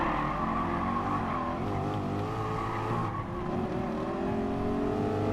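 Race car engine in Gran Turismo Sport holding a steady, droning whine with shifting pitch and a brief dip as it changes gear, loud and continuous with tyre noise beneath.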